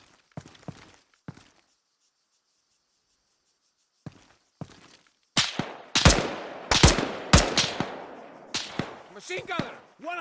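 Automatic gunfire in an Arma 3 battle in Western Sahara: a few isolated shots, a quiet stretch, then dense, loud bursts of rapid fire crackling close by over several seconds.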